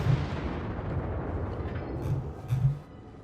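Heavy naval guns on the Japanese tier V battleship Kongō fire in World of Warships, giving a rolling, booming roar with deep thuds near the start and again toward the end, loud and close.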